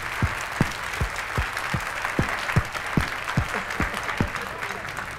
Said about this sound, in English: I would like you to give a big round of applause to the orchestra